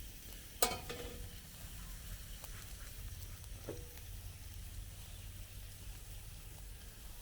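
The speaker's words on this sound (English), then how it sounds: "Oh, now we're getting a sear on it." Burger meat sears on a Pathfinder PFM40 charcoal hibachi grill, giving a steady hissing sizzle throughout, with one sharp tap near the start and a few faint clicks later.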